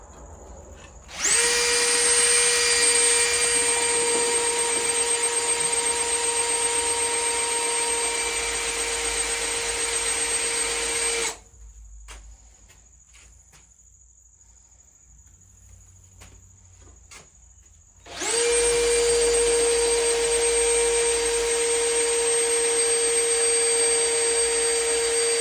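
A power drill with a dulling bit whines steadily at high speed for about ten seconds, stops briefly, then starts up again and runs loud and constant.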